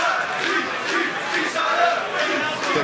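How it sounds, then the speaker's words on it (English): A UFC fight crowd cheers and roars steadily for Harry Hardwick as the third round closes, a dense, continuous wall of massed voices with swelling shouts and no single voice standing out. "The crowd trying to get behind Hardwick now."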